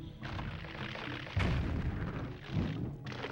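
Bomb blasts in the video game Zelda: Twilight Princess, loud booming bursts at about 1.4 and 2.5 seconds over steady game background sound, with a sharp onset near the end.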